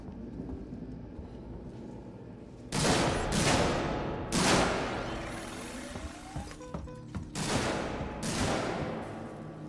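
Gunfire in the video game Alien: Isolation as a gate is shot at: several loud, booming bursts of shots, some sustained and some brief, over a low ambient rumble with no speech.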